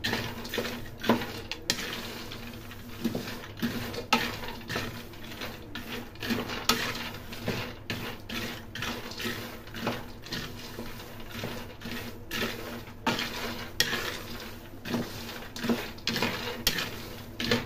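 Peanuts tipped back into a pan with toasted garlic and chili, then stirred, make a continuous dry rattling scrape with repeated clinks of utensil against metal, close and alone without talk.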